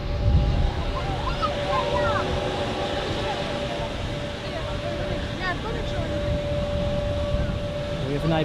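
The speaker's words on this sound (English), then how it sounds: "the Halifax flight is departing on runway 28" An Airbus A340 long-haul airliner departs runway 28 at Zurich airport, heard from an observation deck as a steady, distant, broad engine roar that persists throughout while someone talks over it.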